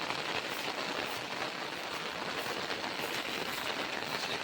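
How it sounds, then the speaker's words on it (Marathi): Steady, dense hiss of rain falling in the Konkan countryside, an even wash of sound with no pauses and no voices. "पाऊस बघा मस्त पैकी"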